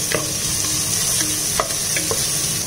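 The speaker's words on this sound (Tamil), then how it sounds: "இப்போ நான் இவ்வளோண்டு சிக்கன் பீஸ் சேர்த்துக்கிறேன்." Chicken pieces sizzle loudly on high flame in a pan, with steady frying hiss and a few sharp stirring scrapes and taps, no voices.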